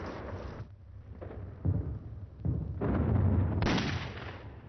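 Bombs bursting during a World War II air raid on US aircraft lined up at Clark Field in the Philippines, a series of heavy rumbling explosions in loud, irregular bursts with no talk.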